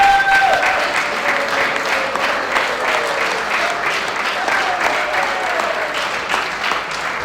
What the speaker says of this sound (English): If I could ask them to stand, please, and receive a warm round of applause.